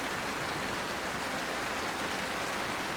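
Heavy rain pours down steadily in a village, a dense, even hiss of countless drops that stays loud and unbroken for three seconds with no voices.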